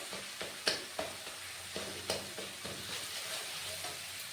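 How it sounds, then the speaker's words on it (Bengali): A spice paste sizzles in hot oil while it is stirred and cooked down, with a steady soft fry and sharp scraping taps of the spoon against the pan at irregular intervals. "ভালো করে আমার মশলাটা কষা হয়ে গেছে।"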